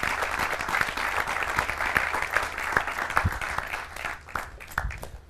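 Studio audience claps after a magic trick on a television talk show, a dense burst of applause that holds for a few seconds, then thins and tapers off near the end.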